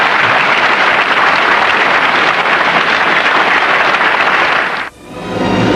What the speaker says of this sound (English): And listen to the crowd now.